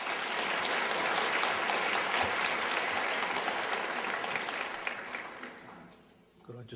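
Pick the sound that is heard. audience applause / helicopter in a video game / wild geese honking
audience applause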